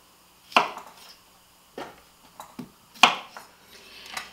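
Knife chopping fresh cucumbers on a cutting board for cold cucumber soup, a few sharp, distinct chops spaced irregularly, close and clear with quiet gaps between strokes.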